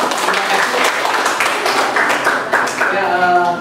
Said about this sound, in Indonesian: Ingat tepuk tangan buat kita semua